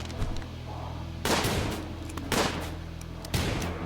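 Gunfire in the RimWorld video game as colonists shoot at cultists in a swamp: three sharp broadband volleys of shots about a second apart, loud over a steady low game hum.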